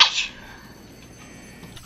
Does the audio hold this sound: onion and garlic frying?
no